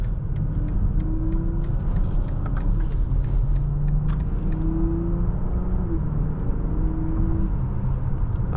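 A 2023 BMW X5 xDrive40i engine with 8-speed transmission accelerating on the road, a steady droning rumble with rising and shifting tones as it gains speed, close and continuous.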